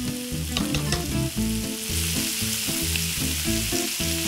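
Bacon fries in a pan for a Brussels sprout orecchiette dish, a loud steady crackling sizzle with bursts of popping and occasional stirring sounds, no voices.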